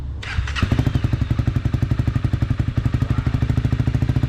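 A 2012 Honda CBR250R fitted with an Akrapovic exhaust cranks briefly and fires, then settles into a steady, close, rapidly thumping single-cylinder idle that pulses evenly throughout.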